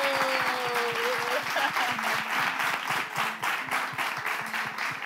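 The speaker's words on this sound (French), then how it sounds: "on continue d'applaudir jusqu'à ce qu'il arrive" Audience applause at a live show as a guest walks up, steady rhythmic clapping from a crowd with a voice speaking briefly over it early on.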